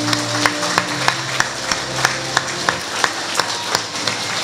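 A concert audience at a memorial event claps in a steady, rhythmic beat, with sharp, evenly spaced claps sounding close and distinct over a faint background hum.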